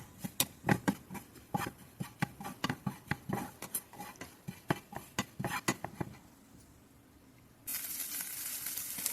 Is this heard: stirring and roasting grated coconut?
yes